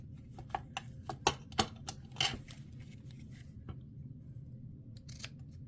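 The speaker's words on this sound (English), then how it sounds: "I am going to cut them down just a tad." Scissors snipping paper pieces for a small stamped treat box, with several sharp close cuts in an uneven cluster, then quieter pauses and a few more snips near the end.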